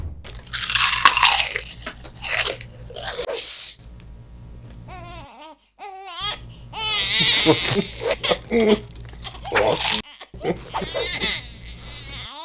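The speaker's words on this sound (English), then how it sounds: "now you're fighting over who chews the loudest around the sleeping baby." Loud crunching and chewing close to the microphone, in repeated bursts, with an infant crying and babbling in between.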